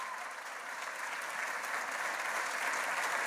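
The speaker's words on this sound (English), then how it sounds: "Let's give a round of applause to our local officials." An audience at a groundbreaking ceremony claps for local officials, a steady round of applause heard at a moderate distance and holding its level throughout with no talk over it.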